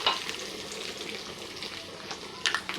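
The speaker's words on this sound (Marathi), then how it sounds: "लसूण आणि कढीपत्ता घालूया छान गुलाबी परतून घ्यायच्या सर्व डाळी" Grated ginger, garlic, curry leaves and lentils sautéing in a pan for spicy sprouts, a soft continuous sizzle with faint crackles and a brief stir near the end, quiet and alone.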